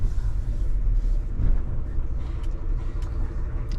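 A MAN diesel truck engine idling and rumbling while the truck is parked beside a diesel pump, a heavy low drone that runs steadily throughout with slight surges and no talk over it.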